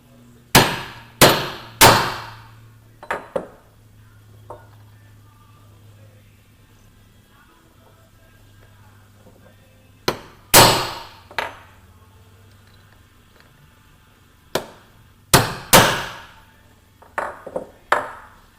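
Metal pin being tapped into a breaker weight with a special tool: sharp ringing hammer strikes in short bursts of two or three, separated by pauses, with a faint low hum underneath.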